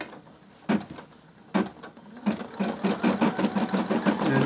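An embroidery machine stitching a design runs close by, a couple of isolated thumps giving way to a steady, rapid mechanical chatter of needle strokes that grows louder and continuous.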